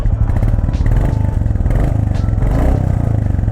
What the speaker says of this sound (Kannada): ಎಕ್ಸಾಸ್ಟ್ ನೋಟ್ಸ್ ನೋಡೋದಕ್ಕೆ ಈ ಥರ ಇದೆ.